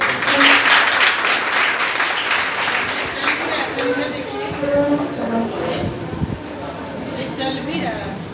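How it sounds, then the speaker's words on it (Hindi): Students in a classroom applaud to welcome the principal, clapping loudly at first and then thinning out, with voices chattering underneath. "प्राचार्य जी का वेलकम करिए तालियों के साथ में"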